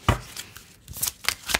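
Playing cards are shuffled close by in a handful of quick riffling bursts, sharp papery flutters spaced a few tenths of a second apart, with no talk over them.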